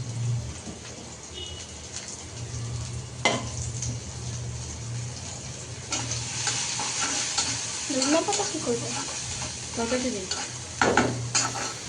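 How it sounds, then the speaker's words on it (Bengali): Chopped onion and garlic sizzle steadily in a hot wok as tempering for fenugreek greens, a continuous frying hiss with occasional stirring scrapes and a few louder bursts later on, heard alone without talk. "কড়াইতে পেঁয়াজ কুচি আর রসুন কুচি দিয়ে দিলাম শাকটা বাগার দেওয়ার জন্য"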